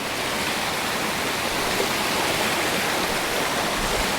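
A waterfall on a trek up Pothigai hill roars in a steady, dense rush that holds an even level throughout, with no voices over it.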